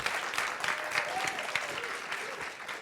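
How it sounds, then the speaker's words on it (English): A conference audience at WordCamp Asia 2024 applauds with steady, dense clapping from many hands, moderately loud and sustained throughout. "Big applause for her."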